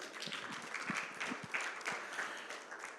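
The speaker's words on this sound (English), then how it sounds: "Give yourself a big clap." An audience at a keynote talk claps steadily and fairly loudly for a few seconds, a dense wash of many hands from a seated crowd.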